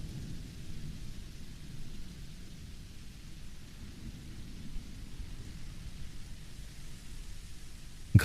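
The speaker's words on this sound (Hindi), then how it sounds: "बारिश में मत भीग।" Steady rain falls with a low rumble of thunder beneath it, a dense even wash of noise throughout with a sudden sharp burst at the very end.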